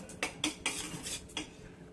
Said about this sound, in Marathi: आता आपण त्याच्यामध्ये खोबऱ्याचा खीस घालूया.